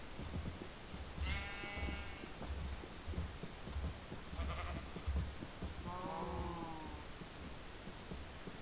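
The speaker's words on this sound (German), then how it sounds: "ich habe jetzt auch ein paar Schafe dabei" Sheep in the Minecraft video game bleat in two or three short wavering calls over a steady pulsing thump in the background, moderately loud.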